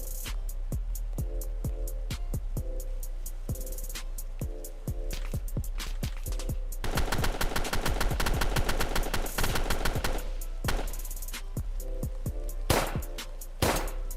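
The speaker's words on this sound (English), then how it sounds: "Yo, there's shooting." Rapid gunfire in the Roblox game Street Life Remastered, with sharp repeated shots and dense automatic bursts, loud and close, running almost continuously through the whole stretch.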